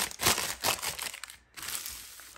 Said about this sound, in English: So I'm going to crumple it up so I can get a little bit of a texture on there.